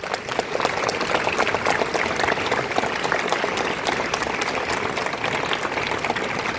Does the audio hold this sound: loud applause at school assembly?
yes